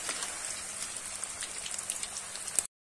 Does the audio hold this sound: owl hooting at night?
no